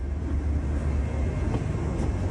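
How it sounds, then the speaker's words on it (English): Interior of a Chinese high-speed rail car, a steady low rumble of the train running along the track with constant rolling noise and no speech. "recently people have filmed empty high-speed rail cars in videos"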